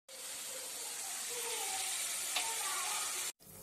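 Soaked chana dal frying in a pan, a loud, steady hiss of sizzling oil that runs unbroken for about three seconds before cutting off.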